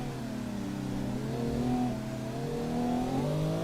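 Nissan Skyline race car engine in Assetto Corsa, racing the Mt. Akagi touge course, droning steadily and then climbing in pitch under acceleration, loud and close with no voices.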